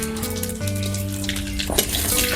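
Cumin seeds hit hot oil with bay leaf already frying in a Bengali home kitchen, giving a steady close crackling sizzle with a brief louder burst partway through.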